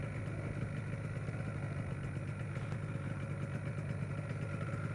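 A Yamaha RD400 motorcycle engine on its first run idles with a steady, rapid two-stroke burble and a faint metallic clatter. It sounds close and continuous throughout, with no talking.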